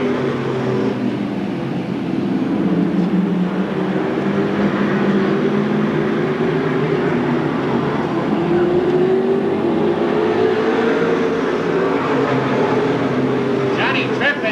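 Stock race cars roar around the short oval at Seekonk Speedway during a 1993 weekly event, engines droning and shifting in pitch as they pass, loud and continuous under a commentator's voice.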